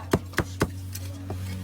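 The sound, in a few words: lechon kawali pork being chopped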